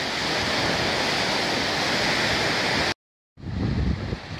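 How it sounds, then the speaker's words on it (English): A flooded River Ogmore rushing under an old stone bridge at Newbridge Fields in February, a loud, steady roar of water that cuts out briefly, then returns with gusty wind rumble on the microphone. "The river is starting to spill over now."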